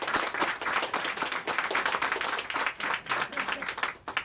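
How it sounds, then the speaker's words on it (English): Audience applause at a book launch in a bookstore, a steady wash of many hands clapping that runs for several seconds and thins out near the end. "I'd love everyone to give a round of applause to Virginia."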